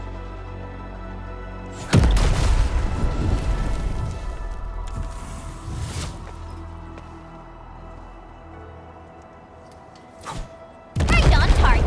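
An explosion in the video game Arknights: Endfield hits as a sudden loud, deep blast that rumbles and decays over a few seconds, followed later by another sharp burst of impact noise.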